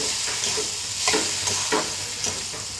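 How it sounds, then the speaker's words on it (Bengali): Small spiced chuno fish sautéing in a pan for a spicy jhal curry, a steady close sizzle broken by several rhythmic scrapes of a spatula stirring through the masala, with no talking. "এবার এটাকে বেশ কিছুক্ষণ ধরে কষাবো"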